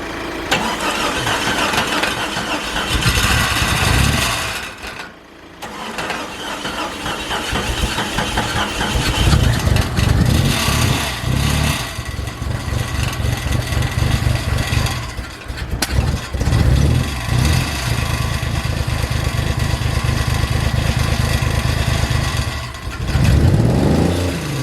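Car engine sprayed with starter fluid cranks and catches, then runs with loud, uneven revving, dropping out briefly a few times before roaring back up and holding a rough, surging idle close to the microphone.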